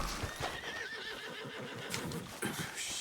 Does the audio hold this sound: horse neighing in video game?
yes